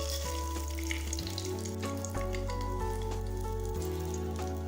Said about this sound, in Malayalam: ഇനി നമുക്കിതിലേക്ക് കുറച്ച് വറ്റൽമുളക് ചേർക്കാം